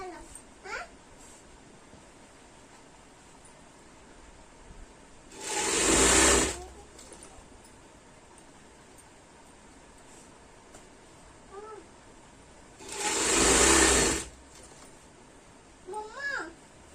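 A sewing machine stitching a Punjabi kameez runs in two short bursts of about a second each, loud and close, with quiet sounds and soft vocal noises in the pauses between.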